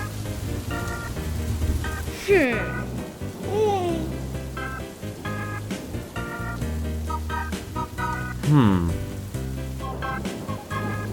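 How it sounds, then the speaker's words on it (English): Rain on a rainy day in a cartoon episode, a constant patter and hiss beneath music and tonal cartoon effects, with a voice speaking over it; moderately loud throughout. "A long rainy day when outdoor plans have to be put on hold."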